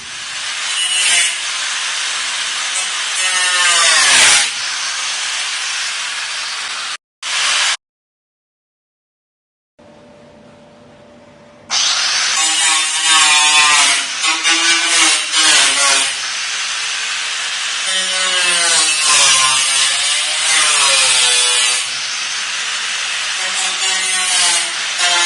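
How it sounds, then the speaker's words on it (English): A Dremel rotary tool cuts a hole for a Ford F250 cold air intake, giving a loud high whine in long bursts whose pitch wavers under load, with a brief silent pause before cutting resumes. "Dremel a hole for your air intake."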